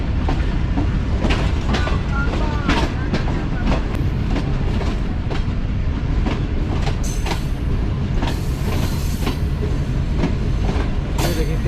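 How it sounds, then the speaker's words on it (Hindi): A business class passenger train running from Lodhran to Karachi takes a sharp curve after leaving a station, with steady loud clickety-clack of wheels, rumbling carriages and occasional high wheel squeal throughout. "अब आगे देखिएगा आपकी ट्रेन अचानक से शार्प कर्व लेगी।"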